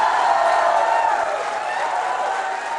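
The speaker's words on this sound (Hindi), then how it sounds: "तालियां जोरों से बजाइए आप सभी अपने लिए, अपने संस्थान के लिए" A dense wash of crowd noise, applause and cheering from a large school audience at a quiz show, sustained and fairly loud throughout with no clear individual claps.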